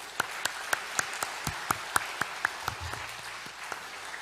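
Korean church congregation at a Sunday service clapping in unison, sharp claps in a steady rhythm about four per second, moderately quiet and somewhat distant over a faint background hum.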